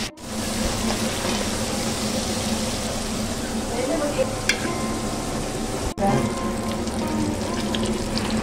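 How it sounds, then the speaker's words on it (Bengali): Onion, capsicum and tomato frying in hot oil with salt for Patiala shahi chicken, a loud steady sizzle that fills the whole stretch, with a few faint utensil knocks and a brief break near the end. "এবার গরম তেলে আগের থেকে কেটে রাখা পেঁয়াজ, ক্যাপসিকাম আর টমেটোগুলো স্বাদ অনুযায়ী নুন দিয়ে বেশ কিছুক্ষণ ভেজে নিতে হবে"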